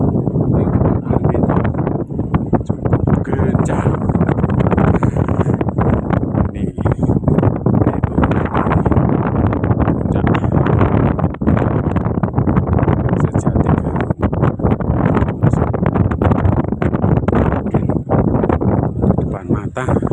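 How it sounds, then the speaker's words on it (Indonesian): Strong mountain wind sweeps through a valley near the summit of Gunung Sumbing on the Banaran route, a loud, steady roar buffeting the microphone for the whole stretch with no letup. "Di sini mulai dengar angin cukup kencang."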